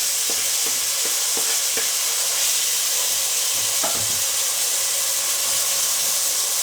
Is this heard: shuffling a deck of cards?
no